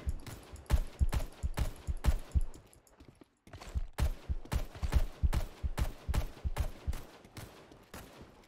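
Rapid repeated gunshots from the video game Karagon, loud rhythmic bursts with a short pause midway before firing resumes steadily.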